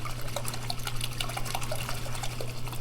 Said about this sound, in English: let me get this into the water again, get most of the soil off so we can see our roots